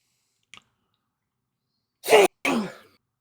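A loud, close sneeze comes after a moment of quiet. It arrives as a sharp double burst, preceded by a tiny faint sound.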